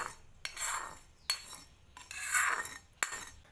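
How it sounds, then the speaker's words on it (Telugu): A spoon stirring cooled tempering into amla (Indian gooseberry) pickle in a bowl: four sharp clinks against the container, each followed by soft wet scraping and mixing, close by and with no voices. "ఒకసారి ఈ పచ్చడిని బాగా కలుపుకుందాం"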